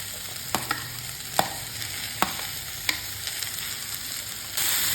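Broccoli stems and carrot stir-fried in a pan give a steady hiss, punctuated by several sharp scrapes and clinks of a spatula turning the vegetables, with no talking.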